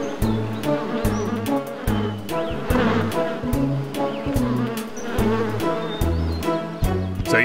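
Cartoon bees in the kids' cartoon Boonie Bears buzz loudly and close over a rhythmic cartoonish musical backing, the droning hum rising and falling without any talking.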